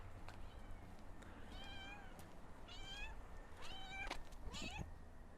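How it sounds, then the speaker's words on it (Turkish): A cat meows several times at a village house, short rising and falling cries spaced a second or so apart, fairly close over a quiet outdoor background. "Bu kedi çok güzel ya sevgili dostlar."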